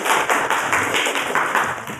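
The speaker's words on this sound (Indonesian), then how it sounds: "tepuk tangan dong buat teman" A small group of classroom students claps in quick, steady applause, bright and close, lasting a couple of seconds.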